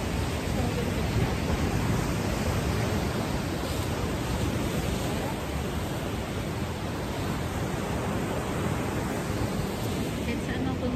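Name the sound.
ocean waves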